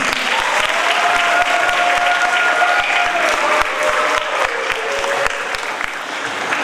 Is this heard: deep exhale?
no